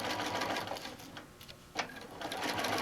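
A sewing machine stitches a fabric bag in quick, rhythmic bursts of mechanical clatter, pausing briefly midway before running again, close and fairly quiet.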